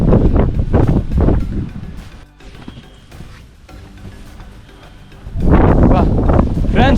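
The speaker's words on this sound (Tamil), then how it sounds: "பயங்கரமாக புயல் மழையே வர்ற மாதிரி காற்றடிக்குதுங்க" Strong wind blowing across an exposed mountain trek near Harihar Fort, loud buffeting gusts rumbling against the microphone, easing in the middle and surging again, with people talking over it.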